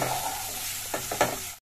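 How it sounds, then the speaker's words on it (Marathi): Chopped onion sizzles steadily in a hot pan, with a few soft scraping stirs near the end before the sound cuts off abruptly. "कारण कांद्याला आणि टमाट्याला आपल्याला चांगलं थोडंसं फ्राय, गोल्डन फ्राय होतीपर्यंत आपल्याला हलवत राहायचंय"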